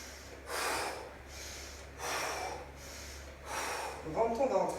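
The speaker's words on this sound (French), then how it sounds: "Inspire, expire." Heavy workout breathing in a steady rhythm, three long loud exhale bursts about every second and a half, close to the microphone, ending in quick panting breaths.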